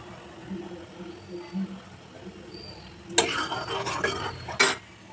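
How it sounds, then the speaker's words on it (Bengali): Homemade ghee being strained from a pan, a soft clatter of a metal strainer and utensil scraping against the pan in two brief bursts after a low, quiet kitchen background, close by, with a voice speaking earlier. "এইভাবে আস্তে আস্তে ছেঁকে নেব ঘিটা"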